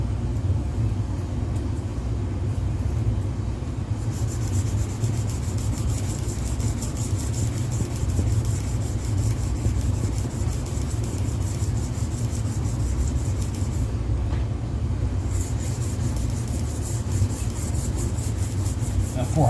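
Sandpaper rubs steadily by hand for a long stretch, a continuous close rasping hiss with brief pauses, while working on parts for a Voron 2.4 3D printer.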